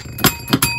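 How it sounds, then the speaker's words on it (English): A notification bell effect rings three times in quick succession, bright metallic dings, loud and close with nothing else around them. "always wants you to hit that notification bell"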